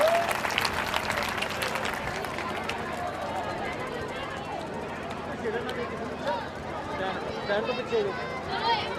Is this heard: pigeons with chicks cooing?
no